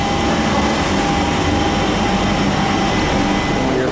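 A London Underground train on the Jubilee line rumbles steadily and loudly through the tunnel, with a constant low roar and a faint whine above it, unbroken from start to finish.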